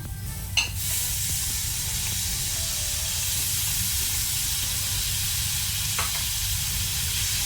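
Chopped tomato goes into a hot pan of fried onions for a Mangalorean cabbage and chickpea stir-fry. It gives a loud, steady sizzle throughout, with a brief clatter near the start and another soft knock later.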